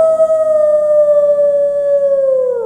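A voice actor imitating a werewolf howl: one long, loud, steady tonal howl held for several seconds, slowly sliding downward in pitch at the end, close and alone.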